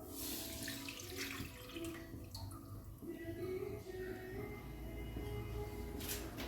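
Second-extract coconut milk poured into a pan for maga payasam, a soft, steady liquid stream with gentle splashing, faint and close, running for several seconds.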